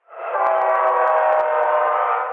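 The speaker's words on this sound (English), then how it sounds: "The train that runs through this tiny town, perched on the high plains of the Chihuahua Desert, used to carry water to cattle ranchers." A train horn blows one long, steady, loud blast close by as a train runs through the small high-desert town of Marfa, Texas, on the Chihuahuan Desert plains, with no other sound.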